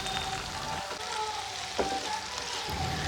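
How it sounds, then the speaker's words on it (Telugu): Green chilies, curry leaves and chopped tomatoes fry in a pan for an Andhra egg curry, giving a steady, moderate sizzle with an occasional soft clink of a utensil, no one speaking. "వీటన్నింటినీ బాగా ఫ్రై చేసుకోవాలి"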